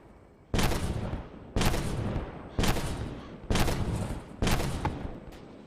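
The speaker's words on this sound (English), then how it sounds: "And here we are just banging away." Five heavy gunshot bursts from a 12-shot Draco firing at bots in a multiplayer shooter video game, each a loud sharp blast about a second apart with a short decaying tail, no talk.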